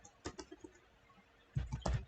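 Computer keyboard typing code: a few scattered soft keystrokes, then a denser burst of louder clacks near the end, close and with no talking.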